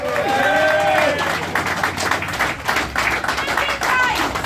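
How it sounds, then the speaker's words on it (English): A crowd applauds at a first birthday celebration, with clapping and some cheering from many hands, while tonal sounds and voices run through the din at the start and end. "And a big round of applause for Mother Sickness herself"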